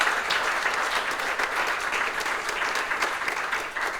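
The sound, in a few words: conference audience applause for moderator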